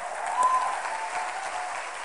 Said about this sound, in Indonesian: Tepuk tangannya dahsyat.